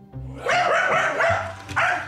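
A Labradoodle barks frantically in rapid, overlapping yelps and whines, loud and close, with no pause between bursts.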